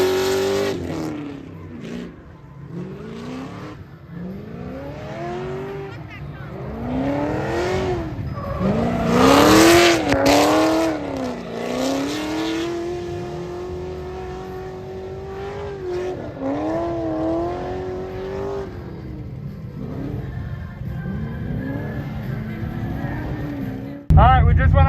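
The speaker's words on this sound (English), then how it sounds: "We just went out for the first lap with all the adjustments, and the car is already a lot faster and feels a lot faster forward." A C6 race car laps a track at OSW, its engine rising and falling through repeated upshifts and throttle lifts, loud and close, with a sharp burst near the end.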